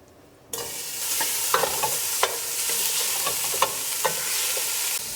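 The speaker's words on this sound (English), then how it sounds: "I'm gonna cook the bacon here until all of the fat releases." Bacon frying in a pan, cooking until its fat releases, with a steady close sizzle starting abruptly and scattered sharp pops and crackles throughout.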